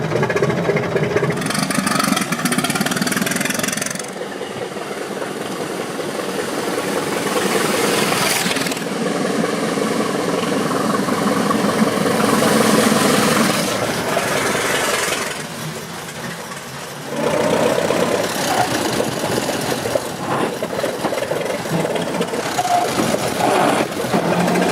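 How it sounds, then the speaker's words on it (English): A 1908 Mors Grand Prix car's 750 cubic inch four-cylinder, four-stroke engine runs loud and close, with a continuous rough roar whose pitch swells and dips as it is revved. "It's a conventional four-stroke engine, 750 cubic inch on 4 cylinders."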